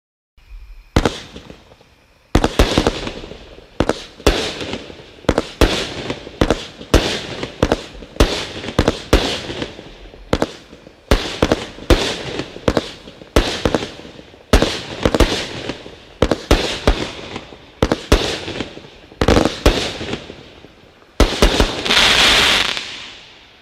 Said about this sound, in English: Item number 16 is Liquid Sky, 200 grams from Black Hat, formerly Stonewall